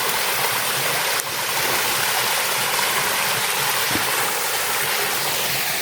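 A forest waterfall rushes steadily nearby, a broad hissing roar of falling water that stays constant throughout with a couple of faint knocks.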